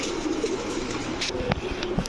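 Old-breed high flyer giribaz pigeons, a green-necked pair of male and female, give soft low cooing calls scattered over steady background noise, with a few brief knocks in between.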